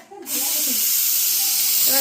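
A pressure cooker lets off a strong, continuous hiss of escaping steam, with a voice faintly heard at the start and near the end.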